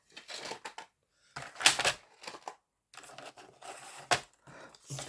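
Scissors snip and crunch through paper while decorations are cut for a vintage junk journal, with close, irregular bursts of cutting and rustling separated by brief silent gaps.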